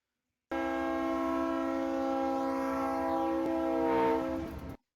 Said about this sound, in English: That is the sound of the horn passing the camera.